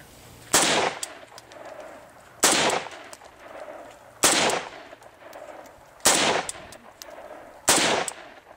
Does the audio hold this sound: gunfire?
yes